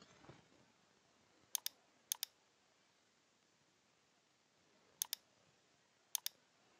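A computer mouse clicks four times in quick double-click pairs, sharp and close against a quiet background hiss.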